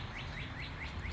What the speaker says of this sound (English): Oh, you hear those birds, Lewis?